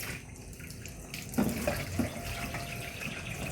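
Running tap water splashing over catfish being washed in a sink, a steady close stream with a few wet knocks and clatters of handling.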